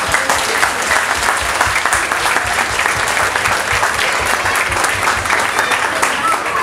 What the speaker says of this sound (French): Je demanderai vraiment un tonnerre d'applaudissements pour tout le personnel de la ville